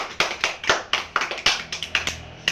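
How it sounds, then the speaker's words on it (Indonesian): A class of students claps their hands in a classroom, a dozen or so quick, loosely rhythmic bursts of clapping, close and fairly loud, with no talking. "Oke, tepuk tangan semuanya."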